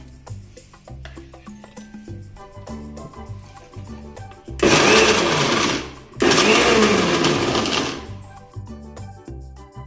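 A kitchen mixer grinder whirs loudly through two bursts of a few seconds each while grinding ponnaganti leaf chutney with coriander, with a short pause between them and soft background music throughout.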